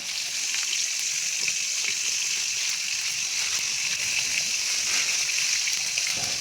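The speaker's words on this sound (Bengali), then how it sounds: "তো মাছগুলো চলো ভেজে নিই।" Pabda fish frying in a pan over a wood fire, giving a steady, continuous hissing sizzle with faint crackles throughout, without any talk.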